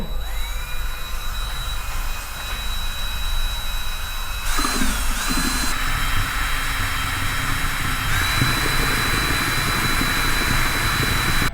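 A drill spinning a paint-mixer paddle through beer wort to aerate it gives a continuous close motor whine with churning, splashy liquid noise that grows rougher partway through.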